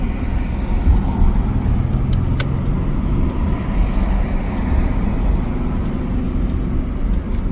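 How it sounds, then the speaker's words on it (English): A car drives along Jamboree, a road in Southern California, heard from inside as a steady, loud low engine and road rumble throughout, with no talking. "So now I'm driving on Jamboree."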